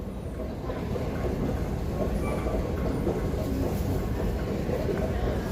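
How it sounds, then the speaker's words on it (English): A New York City subway train on the Roosevelt Island line gives off a steady, loud rumbling roar, with continuous low rattling and broadband noise and no clear breaks throughout. "as I go to the train, it is a subway system"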